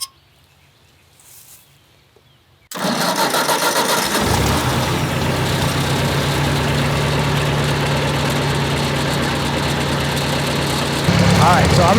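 A tractor engine, choked for a cold start, is started after a quiet lead-in with faint talk, then settles into a loud, steady, low idle that carries on to the end with a slight rise near the close.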